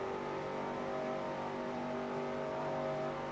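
A race car engine in a racing video game drones at high revs, a steady harmonic whine that holds nearly level, loud and close, with no talk over it.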